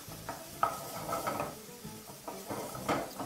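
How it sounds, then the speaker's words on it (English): A spoon pushes and scrapes through beef mince browning in a pan, soft irregular knocks and scuffs over a low sizzle. "I'm just going to use my spoon and I'm just going to keep breaking up the mince."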